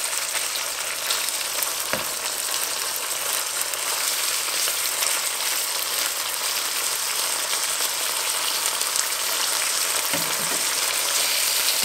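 Fish fillet frying skin-side down in a pan for a fish amok with Kampot black pepper, a steady broadband sizzle running throughout with a couple of faint soft clunks, no voices.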